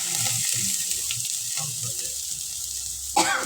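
Asafoetida powder frying in a pan gives a soft, steady sizzle with light stirring, ending in a brief louder clatter near the close.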